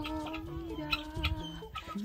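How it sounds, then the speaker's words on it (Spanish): Chickens cluck in a yard at a countryside farm in the Dominican Republic, a few short clucks at moderate distance over a steady rural background. "Ellos muchas veces tienen muchas gallinas y cosas así."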